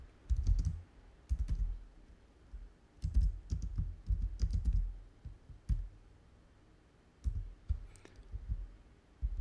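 Bursts of quick typing on a computer keyboard, close and clear, with clusters of key clicks separated by short pauses and no talking.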